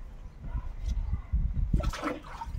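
Water runs quietly while split mallet fish are rinsed for drying, a low, rumbling splash and trickle with faint handling noises, brief and fairly soft.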